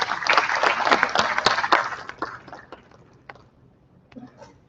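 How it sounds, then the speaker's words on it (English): An audience at an international conference applauds a guest speaker with dense clapping that is loud at first, then thins out and fades into scattered claps and near silence. "Let's give her a big, big round of applause."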